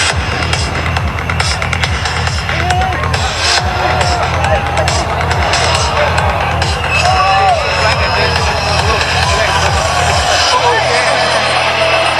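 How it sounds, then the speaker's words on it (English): Helicopters performing aerobatic stall turns at the Singapore Airshow 2026, a loud continuous throbbing rotor and engine drone over crowd noise, with a public-address voice speaking throughout. "the helicopters will execute stall turns on left and right"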